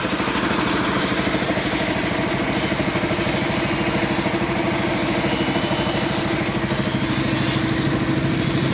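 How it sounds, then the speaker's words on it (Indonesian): An engine-powered air compressor runs loud and close with a steady, rapid chugging throb that continues unbroken throughout, with no talking. "Ini sedikit berisik, ini karena lagi hidupkan kompresor ya."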